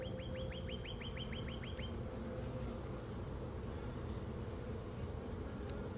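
A dense, steady honeybee buzz at an apiary fills the whole clip, close and loud, with a short run of rapid bird chirps near the start.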